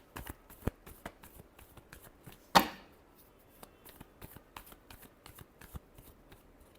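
A deck of tarot cards is riffled and shuffled in quick, papery bursts, with one sharper slap near the middle, close and clear with no talking.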